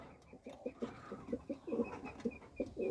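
Soft pigeons cooing in repeated low throaty bursts, close by and fairly quiet, with faint background noise.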